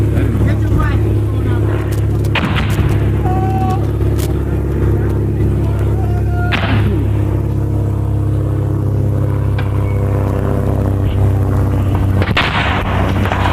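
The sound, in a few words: M79 grenade launcher firing, Vietnam War combat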